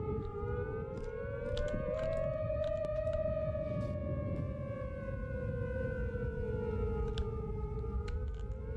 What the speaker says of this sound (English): That is a creepy tornado siren.